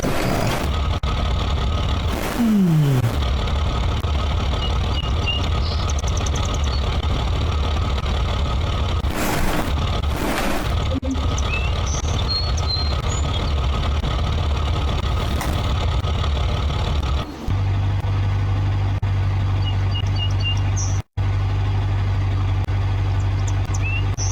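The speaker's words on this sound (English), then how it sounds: "This has a 5-liter V8 engine with a 5-speed manual transmission." A 5-liter V8 with a 5-speed manual in a third-generation SE V8 Sport car in BeamNG.drive runs steadily and loudly, with a deep low rumble throughout, occasional revs and a brief dropout near the end.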